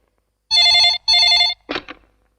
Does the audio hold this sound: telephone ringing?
yes